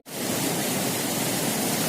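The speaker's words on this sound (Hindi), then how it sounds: "और ये झरना ऊपर से बहता हुआ दिखाई दे रहा होगा।" Steady broadband rush of a waterfall pouring down from above beside the Kedarnath trail near Rambara in the Mandakini valley, loud and continuous with no voices.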